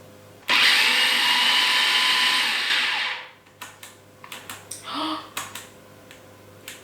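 An electric mixer whisks a peanut butter mixture, whirring loudly and steadily for a few seconds before stopping, followed by a string of light clicks and knocks from the bowl.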